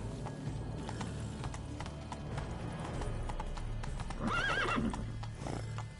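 A horse in Witcher 3: Blood and Wine clip-clops along steadily, then gives a clear, loud neigh near the end, with game ambience underneath and no talk.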